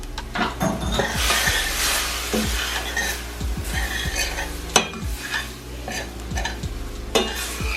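Browned ground beef and flour being stirred in a sizzling pan, with a loud, steady fry hiss under repeated scraping and clinking spoon strokes against the pan.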